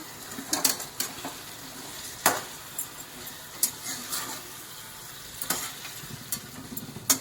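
Cauliflower stirred in a frying pan for a curry, with a soft sizzle under repeated scraping and clinking strokes of a spoon against the pan, spaced out every second or so, fairly close and moderately quiet.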